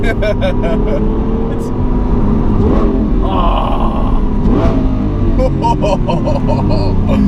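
A Lamborghini Aventador on a test drive, its engine droning and revving steadily close up while people talk over the loud cabin noise.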